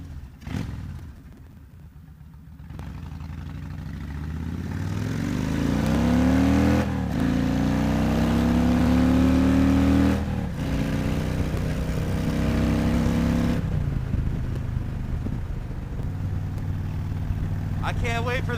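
A motorcycle fitted with an aftermarket exhaust and intake and a Power Commander revs up to a rising, throaty roar, then holds and drops to a rumbling idle, close and loud.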